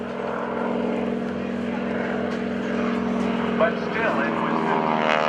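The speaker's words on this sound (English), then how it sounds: "This is a heavy airplane, and it is underpowered compared to most aerobatic aircraft." A heavy, underpowered propeller aerobatic airplane performing at the NAS Oceana airshow drones steadily and loudly throughout, its engine tone constant, while someone talks over it.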